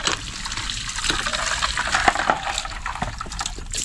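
Water pours into a container on a Filipino farm plot, a steady splashing gush with fluctuating intensity and small bubbling bursts throughout, close and fairly loud.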